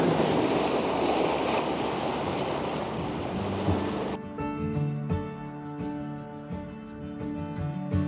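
Steady roar of surf washing ashore, broad and rushing, with a tonal hum rising over the water noise in the second half.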